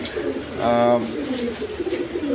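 A pair of red gola pigeons gives a short, close coo, a soft rolling call over quiet background noise.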